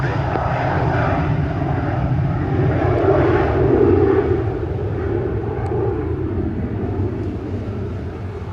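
A Frontier airliner departs runway 07 at Montego Bay, its jet engines producing a loud, sustained broadband roar that swells to a peak midway and then holds steady as it climbs away.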